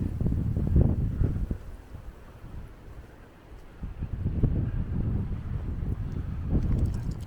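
Cold wind at a beach gusts against the microphone in low, uneven rumbles that swell, ease off, then build again, moderately loud with no talk.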